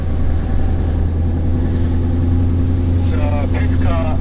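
A Scania S650 V8 truck accelerating after its retarder releases on a test drive at Inje Speedium, heard from the cab as a loud, steady low engine drone, with people talking over it near the end.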